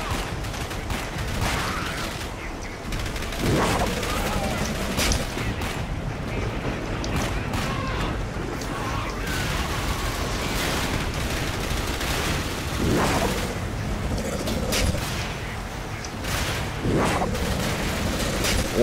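Gunfire in the shooter Dark Sector: repeated bursts of shots and heavy booming impacts, loud and dense throughout, with scattered fusillades over a rumbling game soundscape.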